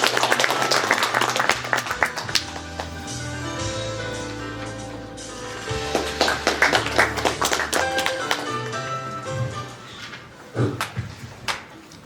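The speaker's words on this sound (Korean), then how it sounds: "큰 박수로 환영해 주시기 바랍니다" Audience applause at the opening of the 2023 NEOM City strategy forum: a crowd clapping steadily in a hall, swelling and easing over several seconds, with scattered louder claps near the end.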